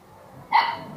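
A single sharp bark from a small dog rings out close by after a quiet moment.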